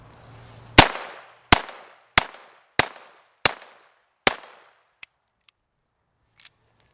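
A Beretta 92 pistol fitted with a Ciener .22 conversion fires six sharp, loud shots about two-thirds of a second apart, each with a short ringing echo, followed by faint metallic clicks.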